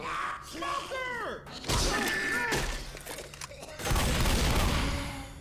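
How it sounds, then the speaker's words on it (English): A pipe bomb goes off in the Left 4 Dead sewers, a heavy broadband blast swelling loudly near the end over chaotic game noise, gunfire and shouted talk throughout. "Should I throw another pipe bomb?"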